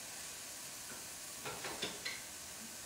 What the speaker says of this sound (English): we're gonna start out by adding our beef to a hot pan